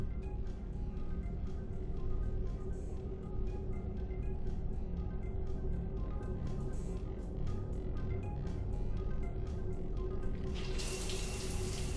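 Shower running inside a starship cabin in the video game Mass Effect 3, a steady close hiss of spraying water with a low hum beneath, continuous and unchanging, ending in a brief burst of brighter noise.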